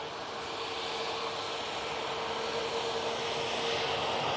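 Ryanair airliner departing Manchester Airport, a steady broadband jet roar with a faint whining tone, sustained and fairly loud at a moderate distance, holding level throughout without voices.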